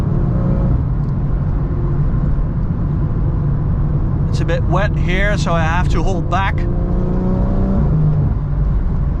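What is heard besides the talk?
BMW M140i xDrive car driving on the Autobahn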